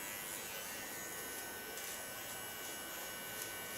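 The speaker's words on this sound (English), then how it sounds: "And with my small Keone clipper," Small Keone hair clipper buzzing steadily and close during a nape shave, a constant electric hum with no pauses for the whole stretch.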